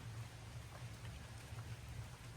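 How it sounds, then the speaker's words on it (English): Hard rain falling outside around a porch, a steady, dense patter and hiss that stays even and fairly faint throughout. "It started raining pretty hard"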